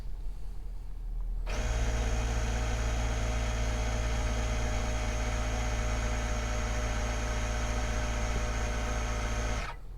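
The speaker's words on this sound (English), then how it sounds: "So I'm gonna crank it up to 15 and we'll let you guys hear the compressor." An Airlift Wireless One onboard air compressor inflating an air bag on a 2020 Ford F350 Super Duty, starting abruptly and running as a loud, steady, even electric hum and buzz for about eight seconds before cutting off.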